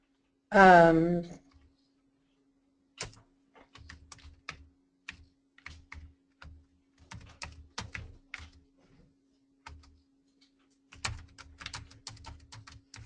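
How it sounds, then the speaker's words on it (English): Brief sound at the start, then irregular clusters of clicking keystrokes on a computer keyboard, close and quiet with pauses between bursts. "So I'm just typing something to have something stored here."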